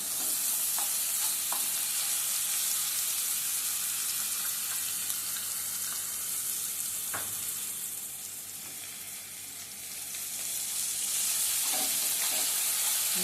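Onion and masala for prawn biryani sizzle and fry in hot oil in a pan, with a steady loud crackle, occasional stirring scrapes and a brief dip in intensity midway, no talking.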